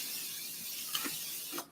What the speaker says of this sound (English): then we spray the fries.